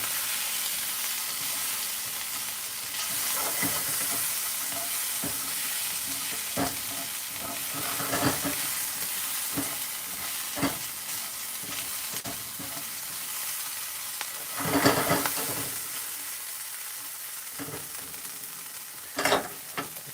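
Corned beef hash and cheese tortellini sizzle and fry in a pan, a steady hiss broken by several louder scraping stirs. No one speaks.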